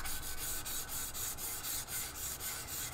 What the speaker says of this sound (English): This is just some fine sandpaper